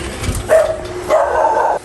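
A dog barks loudly and close by, two sustained yelping barks about half a second apart in an outdoor home setting in the Philippines.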